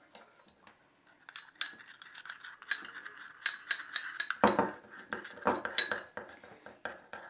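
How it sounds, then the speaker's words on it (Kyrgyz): A teaspoon stirs a home remedy mixture for sinusitis in a small cup, giving a run of metallic clinks and scrapes that grow busier and louder partway through, with no talking. "Кошобуз да аябай жакшылап аралаштырабыз."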